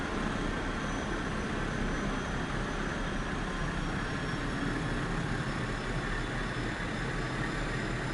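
Airplane taking off on a runway in Microsoft Flight Simulator 2024, a loud, steady broadband engine roar with no breaks and no speech.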